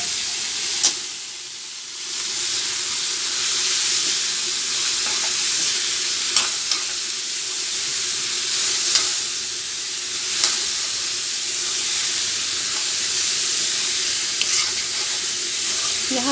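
A steady, loud sizzle of an ingredient dropped into very hot oil for an Assamese traditional dish, hissing continuously with a few faint clinks of utensils.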